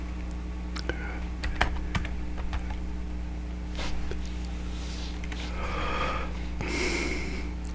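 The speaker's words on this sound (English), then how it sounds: "I typed in ginkgo" Computer keyboard keys typed in a few quick bursts of clicks, moderately close, over a steady low hum, with faint breathing sounds.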